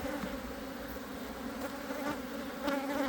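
Honey bees swarm around an open beehive box, a dense continuous buzzing hum with individual bees briefly louder as they fly close past, steady and moderately quiet throughout.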